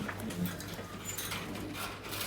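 Pigeons in a loft coo softly and faintly over a steady low background hum, with no voices.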